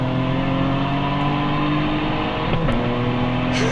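A Nissan Maxima racing a Porsche roars with a steady, loud engine drone, its pitch holding high before a sudden shift drop near the end, with no talk over it.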